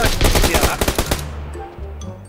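Rapid automatic gunfire in PUBG, a dense loud rattle of shots that cuts off after about a second, leaving faint background tones.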